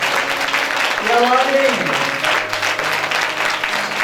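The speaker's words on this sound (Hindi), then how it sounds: "तो जोर से ताली बजाए परमेश्वर की महिमा करें" A church congregation claps loudly in a worship service, a broad, sustained wash of applause. A voice speaks over it.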